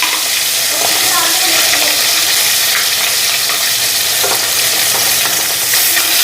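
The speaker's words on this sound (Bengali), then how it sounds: "মাছগুলির দিকে এক পিঠ ভাজা হয়ে গেছে আর এক পিঠ ভাজা হইব।" Rohu fish pieces frying in a pan, a loud, dense, unbroken sizzle close up with faint stirring clatter underneath.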